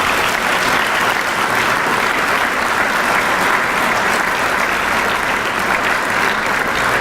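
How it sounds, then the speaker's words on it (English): Dense, steady applause fills a Hall of Fame induction ceremony for criminal justice figures in Rhode Island, loud and continuous throughout with no pause or speech over it. "Can we thank them and give them a round of applause?"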